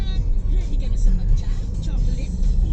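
Cars pass along a roadside with steady traffic rumble and engine noise throughout, while a person talks over it up close.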